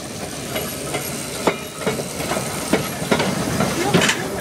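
A small tram rolls past close by, its wheels clicking rhythmically over rail joints with soft hissing, loud and steady for a few seconds.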